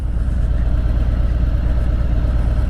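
A motorcycle engine runs at low revs while the clutch is eased into the friction zone with no throttle, giving a steady, close, low-pitched thrumming throughout with no talk.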